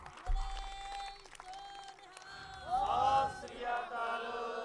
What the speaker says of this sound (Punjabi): ਠੋਕ ਕੇ ਮਾਰੋ ਤਾੜੀ।